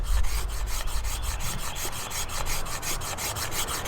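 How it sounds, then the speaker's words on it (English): Green bamboo scraped into fine tinder with a blade, a steady rasping, rubbing scrape repeated in quick even strokes, close and fairly loud, with no talking. "I'm just subtly rotating the piece of bamboo as I go to remove ridges off that material."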